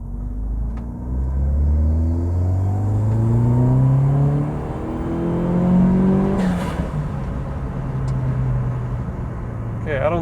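A Peugeot 207 GTI pulling hard in second gear, engine note climbing in pitch as revs rise, then a brief drop and rise again, loud and close from inside the car with steady road rumble.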